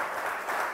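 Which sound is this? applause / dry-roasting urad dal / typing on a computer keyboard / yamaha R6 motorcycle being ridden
applause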